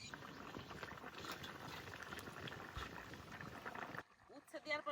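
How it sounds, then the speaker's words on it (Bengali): A fish curry with bitter gourd bubbles quietly in a pan, a faint, irregular simmering patter that gives way to a brief voice at the end. "তরকারিতে সুন্দর জাল উঠে গেছে, এবার উচ্ছে দিয়ে দেবো।"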